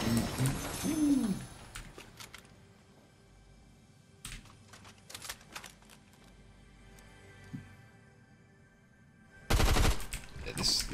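SMG gunfire in Fortnite: short rapid bursts of shots at irregular intervals, with a longer, louder burst near the end, between stretches of quieter game sound.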